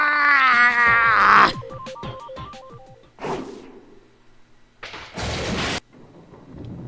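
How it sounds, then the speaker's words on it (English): A loud thunder crash like an explosion bursts out in a Higurashi visual novel scene, following a sustained wailing voice and a short melodic chime, with further heavy crashing booms afterward. "Lightning and thunder struck like an explosion."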